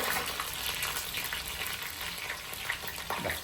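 Dried red chillies, garlic and ginger fry in hot oil for an amla pickle, a loud, dense, continuous sizzle with crackling bursts close by.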